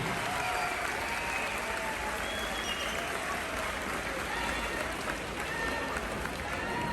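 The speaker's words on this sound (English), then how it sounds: "I want you to give the United States Marines a big round of applause." Crowd at a No Hate Tour show applauding the United States Marines, a dense, sustained roar of clapping and cheering that fills all seven seconds.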